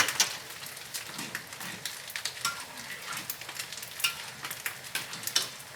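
A dish frying in a pan after sesame oil is added, with a steady, fairly faint crackling sizzle and light stirring scrapes, heard alone without talk.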